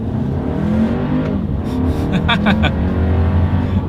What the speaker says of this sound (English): Let's see how quickly this one can get us up to speed.